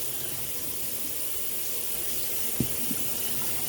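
Running water rinsing a dyed polyester blend jacket, a steady soft hiss of flow with a couple of faint knocks near the end.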